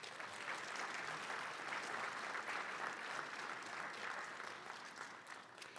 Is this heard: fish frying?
no